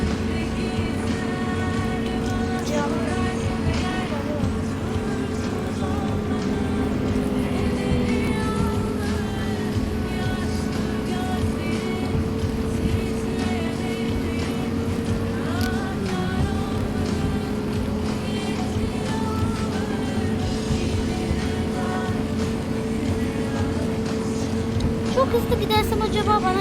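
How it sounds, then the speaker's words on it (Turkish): A bus engine drones steadily from inside the cabin, a continuous low hum with shifting tones as it changes speed, while people talk over it throughout. "Zaten otobüsteyiz abi."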